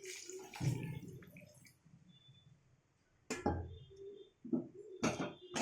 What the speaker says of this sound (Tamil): கொஞ்சம் வேகிறதுக்காக கொஞ்சோண்டு தண்ணி ஊற்றிக்கிறேன்